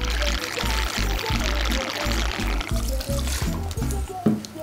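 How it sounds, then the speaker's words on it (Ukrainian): 50 ml of dry gin is poured into a jigger, a short gurgling pour with a rhythmic glugging pulse, close and clear, ending with a small clink. "Наливаємо 50 мл сухого джину."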